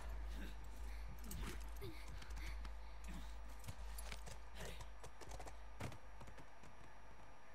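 Horse hooves clip-clopping in the video game The Last of Us, a steady irregular patter of hoofbeats at close range under faint keyboard clicks and background hum.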